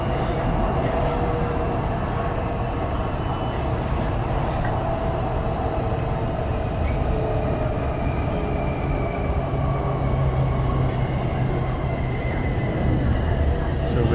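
Bangkok BTS Green Line Skytrain approaching Saphan Mai station, a steady rumbling train interior drone with low wheel hum and faint squeals, continuous throughout.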